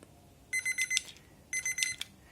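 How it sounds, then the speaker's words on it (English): A timer alarm beeps in two short bursts of rapid high electronic tones, about a second apart, moderately loud and alone. "we're about to hit the alarm now"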